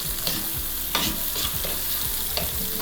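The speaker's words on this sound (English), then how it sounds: "Just gonna add my onions now as your garlic gets fragrant." Onions and fragrant garlic fry in a pan for a tomato-basil puttanesca-style pasta, with a dense steady sizzle and a few quick scraping stirs over it, close and continuous with no talking.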